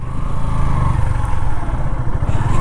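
A Yamaha FZS V3 FI ABS motorcycle engine idles loud and close with a steady low rumble and slight clatter as the bike is turned around in a small space.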